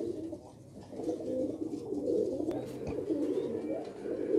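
A yellow tail pigeon coos in a loft in Faisalabad, its low, throaty, rolling calls repeating close by with brief pauses, plus a couple of faint clicks in the background.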